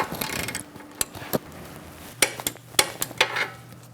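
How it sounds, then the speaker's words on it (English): A torque wrench tightens a lower control arm nut on a 2002-2006 Honda CR-V. Close metallic clicks and clanks come in an irregular series, with brief scraping between them. "Torque this nut to 29 foot-pounds."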